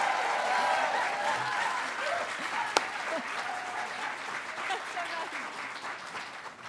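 A crowd at a 2014 Trillium Book Award finalist reading applauds warmly and continuously, claps thick and steady, with a single sharp knock partway through before the clapping tapers slightly.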